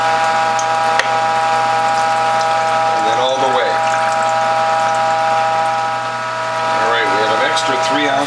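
An apple juice press with a near zero blowback cutter, a Whole Health Foundation juicer, hums steadily with a pump-like whir while pressing apples into juice, and a voice talks over it intermittently.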